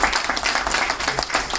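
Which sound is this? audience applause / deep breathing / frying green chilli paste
audience applause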